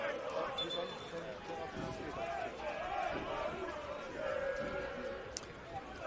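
Steady crowd noise fills the stands at a Victorian Premier League football match between North Geelong Warriors and Melbourne Knights at Churchill Reserve, a continuous murmur of many voices with occasional shouts, moderately distant.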